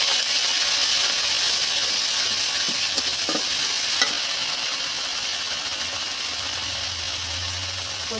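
Whole spices, including cinnamon sticks and cloves, fry in a pan for a country chicken curry with taro, giving a steady close sizzle with a few faint clicks of stirring throughout.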